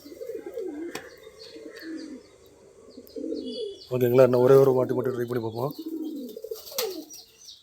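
Pigeons, including crested pigeons, coo in a close rolling burst with soft chirps around them, while someone talks over and between the calls.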